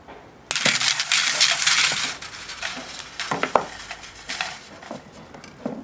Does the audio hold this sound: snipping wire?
yes